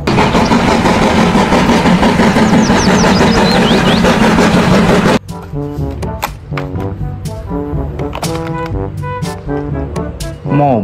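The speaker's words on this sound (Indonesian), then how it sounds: "Kereta Thomas." A toy Thomas train engine runs with a steady, loud mechanical whir for about five seconds, then cuts to a faint background of music-like tones.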